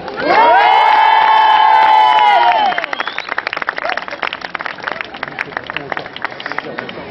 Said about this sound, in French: Mesdames et messieurs, faites du bruit pour Mister Poulet.